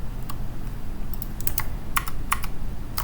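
Keystrokes on a computer keyboard while a command is entered during an Alpine Linux 3.23 setup, coming as a few scattered clicks and then short quick bursts of taps, close and clear over a low steady hum.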